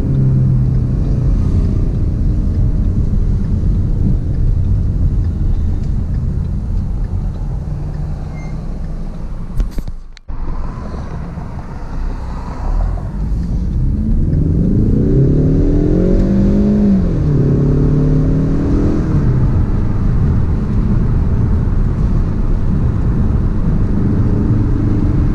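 A 2017 Ford Mustang EcoBoost Premium accelerates through its gears, a loud, close engine drone that rises in pitch, drops abruptly around a gear change, then climbs again with steady revving.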